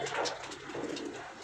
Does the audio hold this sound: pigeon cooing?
yes